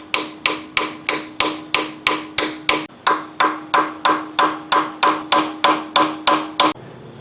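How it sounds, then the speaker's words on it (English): Repeated hammer blows drive a car's pilot bearing into place during a rear-wheel-drive clutch replacement, struck through a socket on an extension; about sixteen sharp, evenly spaced metallic bangs ring out close and loud with a short pause midway. "and bang her in. I also like to put a extension on it to drive it in a little further from back here."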